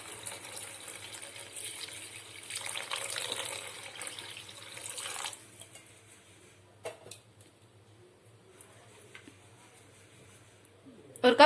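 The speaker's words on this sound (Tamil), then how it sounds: "1 கப் தண்ணி சேர்த்துக்கிறேன்." A cup of water is poured into prawn gravy in a kitchen pan, a broad gushing splash for about five seconds that then fades to quiet low hum, with a short clatter near the end.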